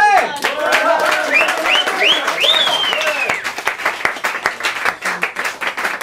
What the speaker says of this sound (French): Aurite, on va l'applaudir bien fort